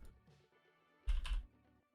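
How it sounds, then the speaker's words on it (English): Computer keyboard typing during a live spaceflight stream, a short burst of several close keystrokes clustered mid-clip, fairly quiet, with no talking. "typing's sometimes picked up, but should be better now"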